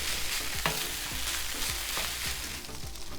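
Plant-based egg fried rice browning in butter on a hot griddle gives a loud, steady sizzle, broken by several short spatula scrapes and taps as it is stirred.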